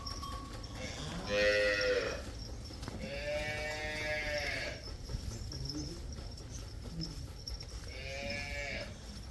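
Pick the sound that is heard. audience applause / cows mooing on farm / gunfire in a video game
cows mooing on farm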